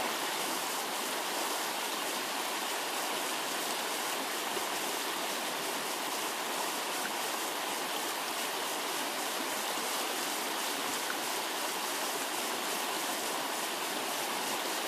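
Stream water rushing steadily and evenly while gold is panned by hand, a dense, continuous wash with no breaks, close and fairly soft, with no voices.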